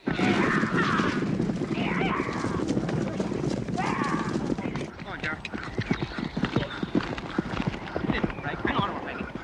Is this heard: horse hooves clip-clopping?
yes